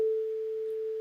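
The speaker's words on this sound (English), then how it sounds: "There you see the sine wave that is being played." A pure sine tone generated in a web browser holds one steady, clean pitch alone for about a second, with no other sound.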